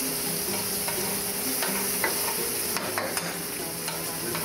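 Tomato, garlic and onion fry in a pan with steady, dense sizzling that runs throughout, with occasional stirring scrapes and clinks heard up close and no talking.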